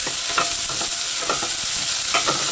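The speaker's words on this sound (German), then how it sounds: "und rühre das einmal schön durch." Carrots and onions frying in hot oil are stirred in a pan, giving repeated scrapes and clatters over a continuous sizzle.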